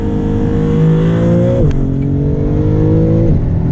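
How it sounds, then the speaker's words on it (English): A 2024 Maserati MC20 in Corsa mode accelerates hard in second gear, its engine note climbing steadily and loudly with two quick gear-change dips, heard close from inside the car with no speech. "do one more acceleration since we're in Corsa mode anyway"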